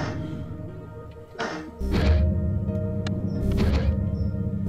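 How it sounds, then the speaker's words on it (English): Cannons fire in the video game Particulars in two heavy booming blasts with rumbling tails, set against steady background music. "Fire the cannons!"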